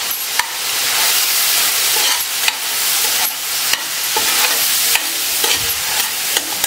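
Turmeric and red chilli powder frying in oil for a green grape pickle: a loud, continuous close sizzle with a few sharp clicks of a spoon stirring against the pan, no voices.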